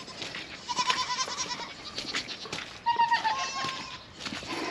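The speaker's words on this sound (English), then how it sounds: "So now I'm out to milk the goats" Goats bleating on a wet, muddy farm at milking time, several close, loud bleats at intervals over a quiet background, no talking.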